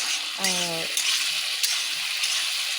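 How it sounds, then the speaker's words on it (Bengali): Steady hiss of pre-fried potatoes frying in oil in a pan, close and even throughout the short stretch, with a brief tonal hum near the start and a few soft clicks. "ভেজে রাখা আলুগুলিকে দিয়ে দেব, দিয়ে সুন্দর করে ভেজে নেব"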